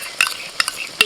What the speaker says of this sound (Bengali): এবার দিচ্ছি লবণ দিয়ে ফেটিয়ে নেওয়া টক দই